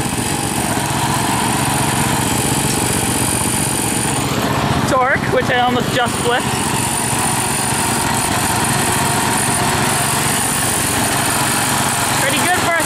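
A restored Grass cat tractor engine runs in a steady, buzzing drone that stays close and loud throughout, with a short voice breaking in partway.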